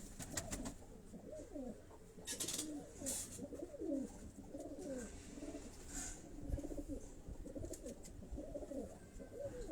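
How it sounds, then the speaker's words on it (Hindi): Pigeons kept by fanciers in Havelian, Hazara, some of them cupboard-bred birds, coo in low rolling phrases that repeat steadily throughout, close by, with a few faint higher chirps and no talk. "ये दोस्तों अब ये दूसरा जो कबूतर हम आपको दिखा रहे हैं"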